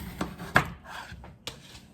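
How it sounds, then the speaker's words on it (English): Cutting potatoes into chunks on a cutting board with a knife, three or four distinct close knife chops at uneven intervals in a quiet kitchen. "Now, these we're going to cut into chunks."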